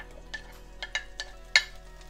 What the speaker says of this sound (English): So let's sauté our garlic.